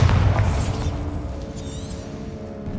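A Bombarda blasting spell in Hogwarts Legacy sets off a single deep boom at the start, then fades into a low, lingering rumble with faint whooshing debris.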